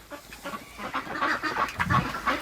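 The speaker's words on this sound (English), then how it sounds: "That's a cold duck." Ducks out in bitter cold, around minus 34 °C with wind chill, giving a string of quiet nasal honks and quacks at close range, with no voices.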